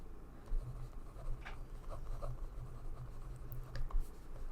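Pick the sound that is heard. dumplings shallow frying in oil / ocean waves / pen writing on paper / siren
pen writing on paper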